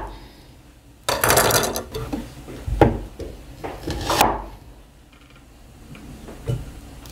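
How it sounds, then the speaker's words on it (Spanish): Knife cutting a piece of onion on a board in a home kitchen, with a burst of rustling and scraping followed by a few sharp knocks and clatters, close by with quiet gaps between. "voy a cortar un trocito de mi cebolla"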